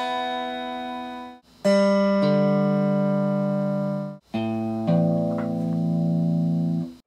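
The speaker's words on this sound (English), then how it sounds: "here's what the guitar sounds like clean right now without going through this circuit" A clean electric guitar with no fuzz pedal in the chain rings out in a few strummed chords, bright and sustained, each left to ring until it fades before the next one, with no voice over it.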